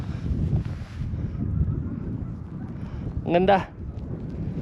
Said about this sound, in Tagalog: Ayan, nagkakaroon ulit ng konting windy.